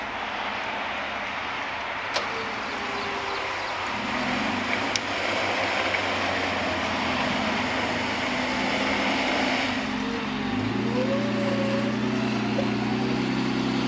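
A jeep engine revs steadily while pulling a stuck Toyota Tacoma off-road, a loud sustained drone that rises and shifts in pitch partway through, with no talking.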